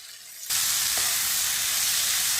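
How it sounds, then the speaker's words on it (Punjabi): New potatoes with spinach sizzle loudly in a hot pan as they are stirred and mixed, a steady frying hiss that jumps up sharply after a brief quieter start and continues without talk. "ਹੁਣ ਉੱਪਰ ਕਰ ਦਾਂਗੇ ਸਾਰੇ ਨੂੰ ਮਿਕਸ"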